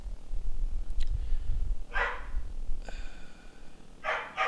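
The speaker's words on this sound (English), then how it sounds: "I found out what my dogs are barking about" Dogs in the Fort Zombie game bark in a few short, sharp bursts at a moderate distance, separated by pauses, over a low background rumble.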